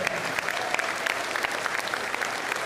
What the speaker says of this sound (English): Ladies and gentlemen, let's give another round of applause for all of our cadets.